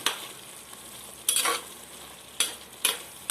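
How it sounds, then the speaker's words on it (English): Spices being stirred in a frying pan for chicken curry, with chili powder, dried chili paste, cut chili padi and turmeric: a steady low sizzle broken by a few sharp scraping strokes of the utensil, no talking. "Give it a good stir."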